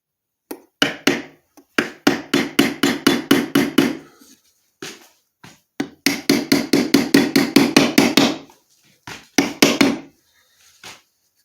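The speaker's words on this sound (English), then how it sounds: "I'm going to just drive this pommel right on down with the hammer" Rapid, evenly spaced hammer blows drive a wooden pommel onto a wooden short sword in several long runs, loud and close, with short pauses between volleys and a few lighter taps at the end.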